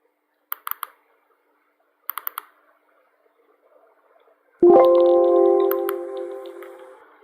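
A computer mouse clicks a few times, two quick bursts of sharp clicks, followed by a sustained tonal startup chime from Microsoft Word opening.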